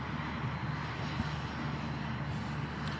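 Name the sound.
aircraft engine of a plane on final approach at Manchester Airport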